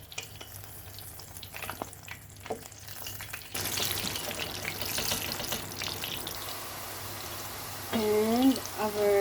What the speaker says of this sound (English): now, let's fry our eggplant